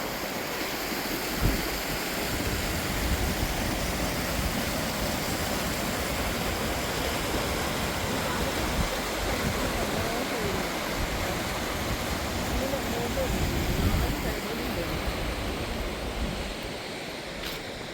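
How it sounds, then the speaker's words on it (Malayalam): Broadband rushing water at Balamuri Waterfalls near Mysore, a steady, dense roar that holds even and close throughout, with no voices over it. "അതാണ് വാട്ടർഫോൾസ്."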